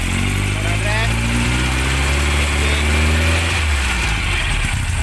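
A Volkswagen Beetle engine runs steadily with a loud, continuous mid-pitched drone and rising revs, close by, while someone talks over it.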